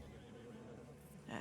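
A horse whinnies faintly in the background, with low rumbling and a brighter burst near the end, while people talk nearby.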